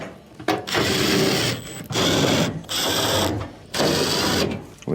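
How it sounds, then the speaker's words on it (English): A power driver whirs in three bursts of roughly a second each with short pauses between, loud and close, as quarter-inch screws go back into a clothes dryer's panel. "Next, go around and reinstall all of your 1/4" screws."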